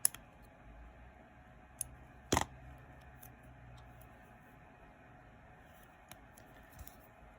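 Embroidery scissors snip a single strand of floss tail, one sharp metallic cut standing out clearly amid a few faint clicks in an otherwise quiet room.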